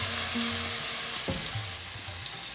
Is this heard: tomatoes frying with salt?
yes